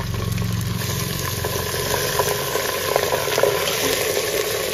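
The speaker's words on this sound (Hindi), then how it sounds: "प्याज को हल्का सा गोल्डन ब्राउन किया है और इसमें सीधा मटन डाल दिया मैंने" Mutton tipped into golden-browned onions in a pot for Rajasthani mutton curry, sizzling and frying in a steady, dense hiss with a low rumble from the stove beneath, continuous and fairly loud throughout.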